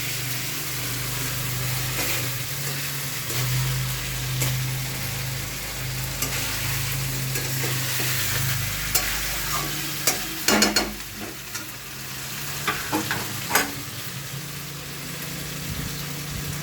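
Mutton being stirred and sautéed in a pan, with a continuous low sizzle and repeated scraping and clattering of the spoon against the pan. A steady hum runs underneath, and occasional louder knocks stand out near the end.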